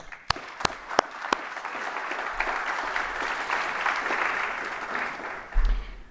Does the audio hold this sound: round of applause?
yes